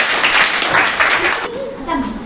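A classroom audience bursts into brief clapping, loud and close, with some chuckling mixed in; it fades after about a second and a half as a voice speaks.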